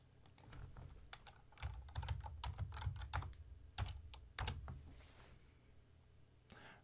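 Computer keyboard typing up close, as an email address and password are entered at login: quick irregular bursts of clicky keystrokes with short pauses, fairly quiet, no voices.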